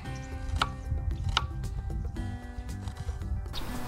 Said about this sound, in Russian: У нас одна большая луковица и одна небольшая